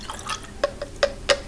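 Water poured back into a glass, heard as a few separate bright drips and splashes landing in quick succession, close and fairly loud without talk.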